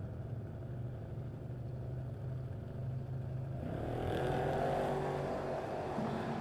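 Drag race cars, one a Camaro, launch from the start line at a King of the Creek event, their engine rumble swelling into a loud, rising roar partway through.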